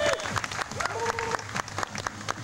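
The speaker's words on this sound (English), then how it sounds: "Round of applause for Mr." A crowd at a leather contest event applauds briefly, with steady clapping mixed with cheers and whoops throughout the short burst.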